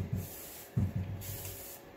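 A few short hissing bursts of a spray bottle misting paint onto furniture nearby, separated by brief pauses.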